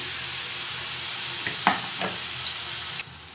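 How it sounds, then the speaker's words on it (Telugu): Ground masala hits hot oil in a pan for a fish curry, giving a steady close sizzle with a couple of brief stirring scrapes, then quieting slightly near the end. "గ్రైండ్ చేసుకున్న మసాలా ఇలా వేసేసేయాలి"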